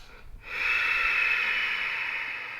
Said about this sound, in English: Performed by creating a soft sound in the back of your throat while inhaling and exhaling through the nose.